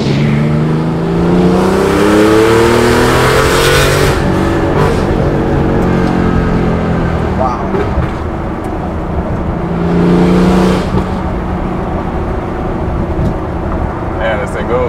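A Rauh-Welt Begriff modified Porsche 993 accelerates with a smooth, steady engine note that rises and swells in pitch twice, loud and close.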